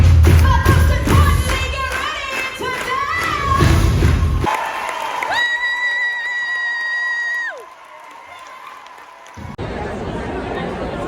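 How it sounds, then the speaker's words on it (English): Theater audience in a New York mezzanine clapping and cheering loudly for a few seconds, thick overlapping claps and crowd noise, followed by quieter tonal sounds and a lull. "Everybody clap your hands"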